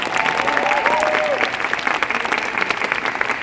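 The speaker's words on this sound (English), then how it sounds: "So give these guys a round of applause" Audience applause at a business gathering, a dense, steady round of clapping filling the room, with a brief whistle or cheer rising over it near the start.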